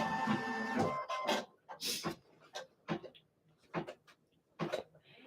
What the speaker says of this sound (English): So now it is going to do the basting stitch for the number.